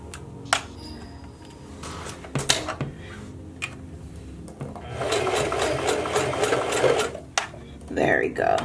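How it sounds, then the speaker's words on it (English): A domestic sewing machine stitching hair weft tracks, its motor running in short bursts and then a steady stretch of rapid needle clatter, close and fairly loud, with a voice talking over parts of it. "you wanna put your finger in between the double track and the single track, and you wanna start sewing"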